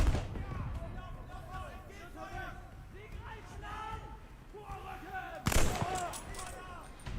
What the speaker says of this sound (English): like they hear the gunshot, they still keep going.